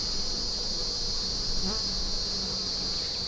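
Honeybees at a beehive make a steady, dense insect buzz that stays constant throughout, close and fairly loud with no talking.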